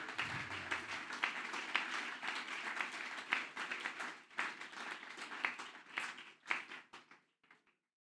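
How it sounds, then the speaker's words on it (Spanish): A church congregation claps for the Lord, a moderate patter of hands with some sharper individual claps standing out, fading into scattered last claps and then quiet. "Dele ese aplauso al Señor."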